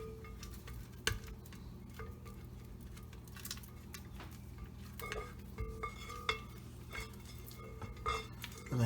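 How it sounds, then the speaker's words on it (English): A spatula scrapes around a mixing bowl of carrot cake frosting, giving soft irregular scraping and light clinks and taps, fairly quiet and close, with no talking. "Scrape the bowl down."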